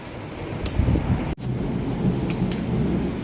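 Thunder rumbling during a rainstorm, deep low rolls over steady rain hiss, with a sharp crack in the middle.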